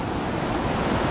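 Elk Creek flowing at a trail crossing on a mountain hike, a dense, close, continuous rush of water with wind buffeting the microphone, no voices.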